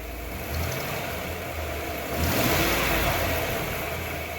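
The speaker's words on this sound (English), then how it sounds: "Give it a little rev, kid." A 1996 Ford Bronco with its 5.0 V8 idles steadily nearby, then is revved up, the engine note rising and holding at a louder, rougher roar before easing back slightly.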